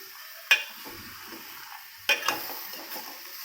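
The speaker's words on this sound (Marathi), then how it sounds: "आपला मिक्स झालेला आहे मसाला आणि मसुरा सगळा कांदा भिजवलेला मसुरा थोडासा हलवून घेते" Soaked whole masoor lentils with onion and masala get stirred in a pot, giving two sharp spoon scrapes against the metal over a quiet background with a light sizzle.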